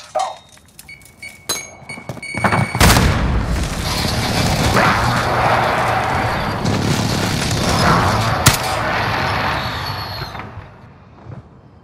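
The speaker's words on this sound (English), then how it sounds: "Precision airstrike inbound." Precision airstrike explosions in an online shooter video game: a heavy boom followed by sustained rumbling blasts and debris roar for several seconds, loud and dense, with scattered gunfire before.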